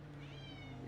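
A pet cat named Luna meows in one long, drawn-out call that rises and falls, heard over a steady low engine-like drone throughout.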